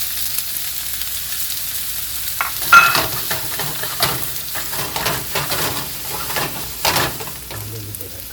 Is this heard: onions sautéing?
yes